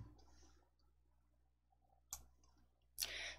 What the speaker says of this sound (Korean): 넣기 클릭.